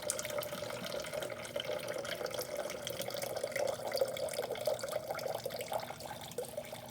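Water runs steadily through a stream table in a classroom lab experiment, a soft, continuous trickling wash with no pauses, faint and close.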